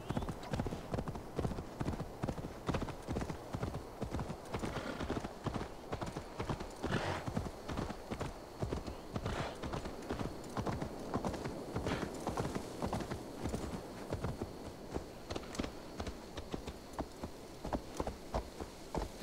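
Horse hooves clip-clop steadily in Assassin's Creed Valhalla, a brisk, even rhythm of close, moderately loud hoofbeats that continues without pause for nearly twenty seconds.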